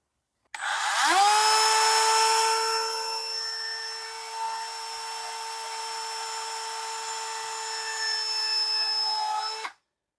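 A power drill whines up to a steady high-pitched spin while drilling a hole through a broken thigh swivel joint, runs continuously for about nine seconds, then stops abruptly.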